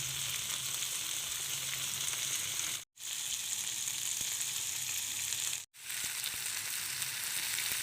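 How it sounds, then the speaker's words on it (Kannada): Cut okra pieces fry in oil in a pan, a steady broadband sizzle that holds throughout, with two brief near-silent cuts. "ಕಟ್ ಮಾಡಿ ಫ್ರೈ ಮಾಡ್ಕೊತಾಯಿದ್ದೀನಿ"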